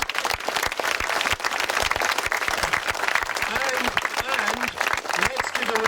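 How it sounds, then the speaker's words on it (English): Outdoor audience at a Hen Harrier Day rally breaks into sustained applause, dense and steady clapping from a sizeable crowd, with faint voices mixed in beneath the clapping. "Let's give a round of applause for the Moors for the Future project."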